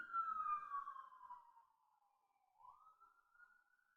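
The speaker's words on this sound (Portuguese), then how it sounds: "Está passando uma ambulância." A distant ambulance siren wails faintly as it passes, one long falling tone followed by a rising one, with no other sound around it.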